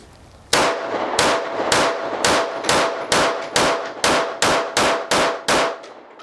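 A Staccato P 2011 9mm pistol fired rapidly on a range, about a dozen loud, sharp shots in a steady fast rhythm, each with a ringing metallic tail, close and alone.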